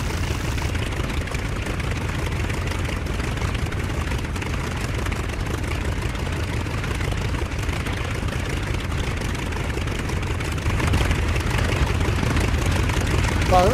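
An aircraft engine in the DCS flight simulator game gives a steady, loud droning hum that holds evenly throughout and rises slightly toward the end.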